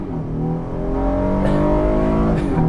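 A 2022 Honda Passport Trailsport in sport mode pulls away from a soft torque-braked launch near 1600 RPM, its engine note rising steadily and loud through upshifts heard from the cabin.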